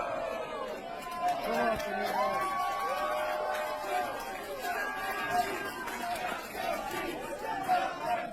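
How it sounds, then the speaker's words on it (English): A crowd cheers and chatters steadily throughout a played-back wrestling video, with shouts and whoops rising at moments and some voices standing out, at moderate loudness. "What were they cheering there, James?"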